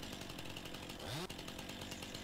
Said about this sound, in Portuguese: E agora nós vamos meter ele aqui a motosserra